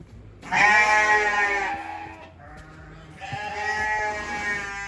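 A sheep bleats loudly and close by, two long wavering calls with a short pause between them.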